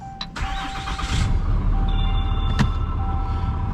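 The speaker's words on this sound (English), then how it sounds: "I thought you had started the truck." A truck engine cranks and catches, then settles into a loud, steady running rumble up close. A thin electronic tone and beeps sound over it.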